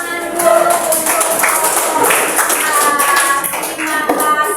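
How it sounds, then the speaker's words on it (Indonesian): A class of students claps together in a classroom, dense steady applause from many hands filling the room close by, with a few voices mixed in. "Kita tepuk tangan dulu untuk"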